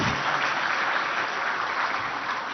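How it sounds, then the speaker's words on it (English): Steady, dense crowd applause at a political party booth committee meeting, saluting two irrigation projects, a continuous wash of hand claps on its own with no talking. "Can we have a round of applause for these two projects, please?"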